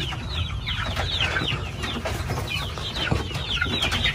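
Young chicks let out of a cage one at a time, their high peeping and clucking chatter going on continuously and fairly close over a low background rumble.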